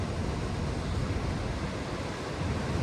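Water roaring down Niagara Falls, heard from the Maid of the Mist boat, is a constant loud broadband rush without pauses, like heavy surf mixed with wind noise.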